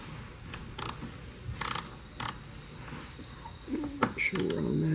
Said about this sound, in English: 30 Torx you're going to use just to loosen that back bolt